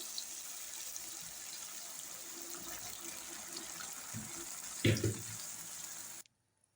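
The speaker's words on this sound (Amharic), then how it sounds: "አሁን ደግሞ የፈላ ውሃ አለኝ፣ እሱ እከልሰዋለሁ ማለት ነው።" Boiling water is poured onto meat frying in a pot for a bamia (okra and meat) stew, giving a brief loud gushing splash over a steady background hiss before the sound cuts off.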